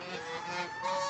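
Geese honk repeatedly in a village farmyard, a close and fairly loud run of nasal calls that overlap without pause for the whole stretch.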